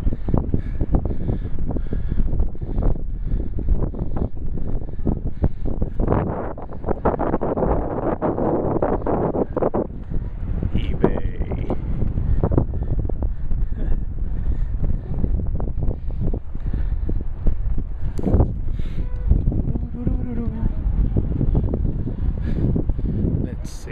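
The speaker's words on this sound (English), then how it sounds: "I don't know if you can hear me because it's really windy." Heavy wind at Gillette Stadium buffets the microphone in constant low rumbling gusts, loud and close, with a voice talking faintly underneath.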